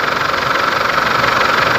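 A Chevrolet Colorado pickup truck engine with a turbo fault idles loudly and steadily with a rough, knocking rattle running through it, continuous and close by.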